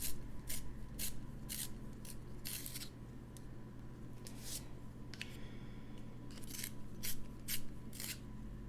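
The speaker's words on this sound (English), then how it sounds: "Let's try to sharpen it." A drawing pencil is sharpened close up in a quiet room, giving a series of short scraping, rasping strokes in uneven bursts over a low steady background hum.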